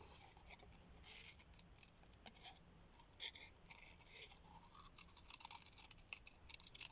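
Scissors snip around small paper craft tags in a run of quick, light cuts with faint rustling of paper, close and quiet, with no voices.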